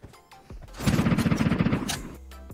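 Automatic gunfire in the mobile battle royale game PUBG Mobile, a single rapid burst of about a second of closely spaced shots, loud and close, with brief sounds before and after.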